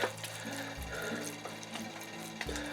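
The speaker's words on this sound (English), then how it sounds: "And of course, always give your seeds a little water." Water trickles and splashes onto seeds planted in soil, a soft uneven patter with faint clicking from the watering vessel.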